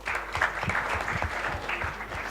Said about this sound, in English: I give them big claps.